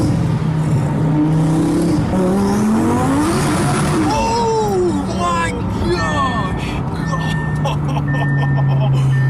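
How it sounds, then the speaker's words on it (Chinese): An Audi R8 Black Warrior supercar with a tuned engine pulls away under hard throttle, its engine note rising and revving loudly throughout, with a passenger's voice cutting in over the engine noise. "然后又猛地踩下油门。"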